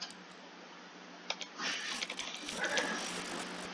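Playing cards from an Arkham Horror card game deck being shuffled, a quiet riffling patter that builds into a denser flutter of card edges over a few seconds, close by with no talking.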